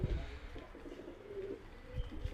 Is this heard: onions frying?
no